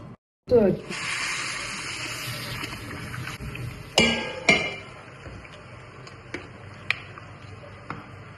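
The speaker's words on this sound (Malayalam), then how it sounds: "ഞാൻ ഇതിലേക്ക് തിളച്ച വെള്ളം ഒഴിക്കാൻ പോവാണ്" Boiling water poured over rice in a pot, a steady gushing pour starting abruptly and running several seconds, close and moderately loud, with a few sharp clinks of metal along the way.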